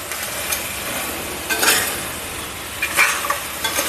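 Crab sautéing in a pan with onion, tomato, salt, turmeric and chili powder, a loud close sizzle broken by bursts of spatula scraping and stirring, with no voices.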